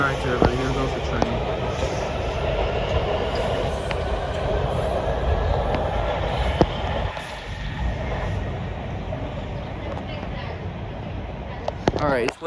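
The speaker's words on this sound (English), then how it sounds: "Alright, everybody, here goes the train." A Metro train rolls past at an Alexandria station with a broad, steady rumble of wheels and cars, easing slightly midway, heard from a platform close by.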